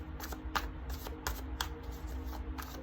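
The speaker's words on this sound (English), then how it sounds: "So let's get you another card from here." A tarot deck is handled and shuffled, with a run of quiet, close, rhythmic card flicks and riffles.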